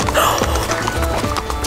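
Horses clip-clopping in Norway on a horseback safari, a series of loud close hoofbeats in an uneven rhythm with some breathing and outdoor noise around them.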